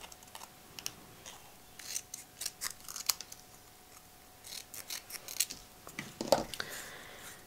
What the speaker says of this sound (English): So I'm just going to cut off these bits and pieces right here.